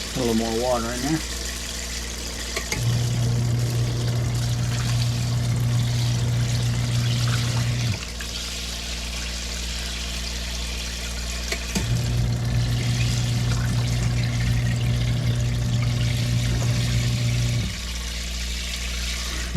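Water pours and trickles steadily into a portable washing machine at an off-grid campsite, with a pump humming in two long stretches and a few faint voices at the start.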